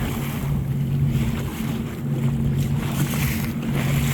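Steady rumble of wind and water around a small boat with a low engine drone on the sea between Key West and Key Largo, waves sloshing continuously against the hull, no voices.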